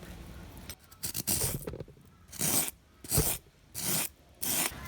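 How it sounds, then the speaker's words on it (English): A hand rasp files and rounds a carved decorative piece in a series of about six rough, rhythmic scraping strokes, loud and close, with short pauses between them. "now I'm going to take a rasp and I'm going to be rounding it all the way around so that it's a nice shape"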